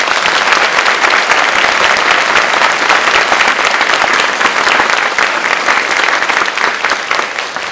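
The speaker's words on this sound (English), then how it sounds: "Please give one more round of applause." Sustained applause from a concert audience at a middle school area band performance, steady and dense clapping filling the hall for several seconds before easing slightly.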